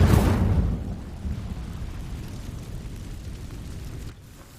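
A burst of fire from the Incendio spell in Hogwarts Legacy sets dry vines alight, opening with a loud whooshing flare that settles into a steady crackling roar, then drops sharply near the end.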